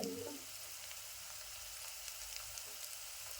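Onions frying in a pan over a medium gas flame, giving a steady, soft, continuous sizzle close by with faint crackles throughout and no voices.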